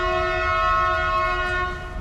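A train horn blaring close and loud, one sustained chord of steady tones held throughout and easing slightly at the end, heard in Mpumalanga, South Africa.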